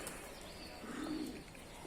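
Pigeons being fed on a rooftop in Adana give soft, low cooing at moderate distance, with faint chirps over steady outdoor background noise.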